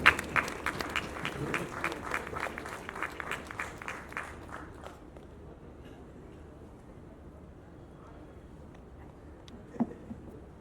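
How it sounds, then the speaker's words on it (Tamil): Audience at a Tamil film audio launch applauds an actor taking the stage, a dense burst of clapping for about five seconds that fades into quiet hall ambience, with a faint thump near the end. "ஒரு நல்ல கைத்தட்டி கொடுத்துடலாம்."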